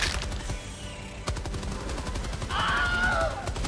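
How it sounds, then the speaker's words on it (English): Automatic machine gun fire in the Helldivers 2 video game against bugs, a dense rapid burst of shots running through the whole stretch with a louder swell near the end, over game effects and a whistling tone. "I should probably use my machine gun for this"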